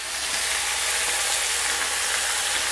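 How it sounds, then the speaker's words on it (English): Steady, dense sizzling and crackling of bacon frying in hot fat, loud and close, continuous throughout with no voices. "I need to get my bacon in"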